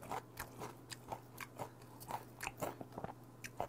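Crunchy raw onion being bitten and chewed with a Korean meal of raw conger eel sashimi, giving close, crisp crunches in a steady irregular rhythm over a low hum, with no talking.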